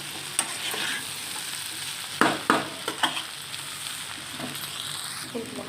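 Ghugni of kabuli chickpeas and potato with ginger sautés in a pan, a soft continuous sizzle broken by a few sharp spoon scrapes and knocks.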